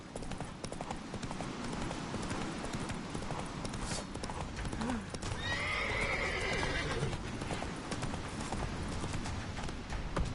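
The horse Roach gallops in a video game, hooves clip-clopping steadily and close, with a loud neigh partway through over a busy background of game sound.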